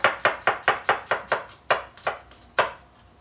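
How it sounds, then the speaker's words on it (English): Kitchen knife chopping garlic on a cutting board: about a dozen quick, sharp chops in a steady rhythm with a short pause, close and clear, no talking. "It took a very long time for me to get used to chopping garlic fast."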